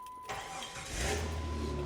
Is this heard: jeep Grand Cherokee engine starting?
yes